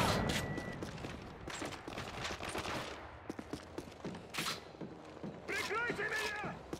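MP5 submachine gun fire in Call of Duty Modern Warfare 3, scattered sharp bursts and thuds at moderate distance, mixed with game effects and a voice talking over the action.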